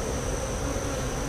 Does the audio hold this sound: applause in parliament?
no